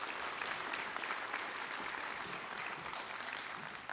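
Soft, steady applause from a modest audience at a school board meeting, sounding somewhat distant and even for the full stretch with no voices over it.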